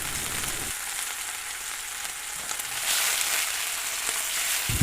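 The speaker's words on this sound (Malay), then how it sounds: "Tumis bahan-bahan ni sampai pecah minyak" Spices, turmeric powder and curry powder sizzle and fry in hot oil, a loud, continuous crackling hiss that swells midway as the mixture is stirred.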